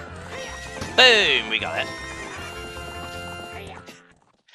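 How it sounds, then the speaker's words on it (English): Epona the horse whinnies in The Legend of Zelda: Ocarina of Time, a loud, bright neigh rising over game music around the one-second mark, with a player talking over the scene. "What's up with that horse? Is that Epona? How did you tame that wild horse right under my nose?"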